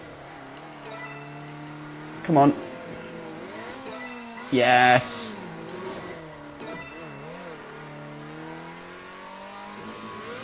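Race car engine whining and shifting pitch as it drives laps in Circuit Superstars, with two short bursts of tire squeal, while someone speaks briefly over it.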